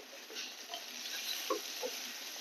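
Dhekia fern greens frying and being stirred in a pan: soft, quiet sizzling with faint scraping of the spatula, close and gentle, without talk.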